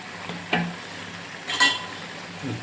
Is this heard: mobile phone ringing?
no